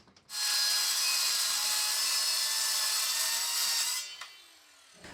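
A CNC plasma cutter partially cuts a 12 gauge steel cutout for a large bandsaw mill blade guard, a loud steady hissing roar starting abruptly and running about four seconds before cutting off.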